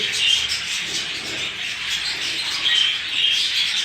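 Budgerigar chicks give a continuous chorus of thin, high chirps and squeaks, close by and fairly soft, with no talking over them.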